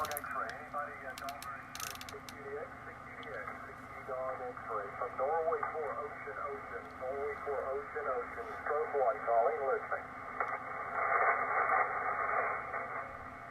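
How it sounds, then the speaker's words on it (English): Static crashes from distant storms crackle through a Yaesu FTdx10 ham radio receiver, irregular bursts over a steady band of received signal, with a voice talking over it. "I'm still hearing a little bit of static crashes from those in the distance."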